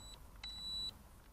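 A small indoor toy drone beeps as it powers on and initialises: a short tone, then a longer steady beep, faint and close in a quiet room.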